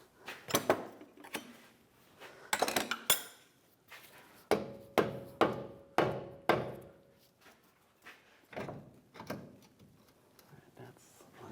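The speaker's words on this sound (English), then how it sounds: "just use a dead blow hammer or a rubber mallet" A dead blow hammer or rubber mallet knocks a lower control arm bushing into place on a 2011-2019 Ford Explorer: repeated dull thuds in clusters, close up, with a brief metallic ring.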